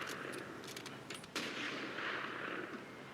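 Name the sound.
gunshots from a war film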